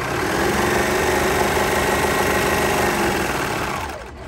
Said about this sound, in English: I want to stitch right up to the end, and then I want to take one stitch in my fabric and stop.